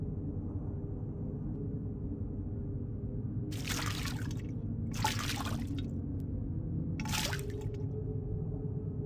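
Hands splashing in a basin of clean water in the video game The Black Mirror, three short watery sloshes spaced over a few seconds over a steady low hum, close and fairly soft.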